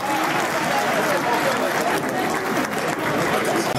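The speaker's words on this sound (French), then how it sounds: "les applaudissements, s'il vous plaît" Audience applause at a 50th birthday celebration, loud and continuous clapping close by with crowd murmur and faint voices mixed underneath.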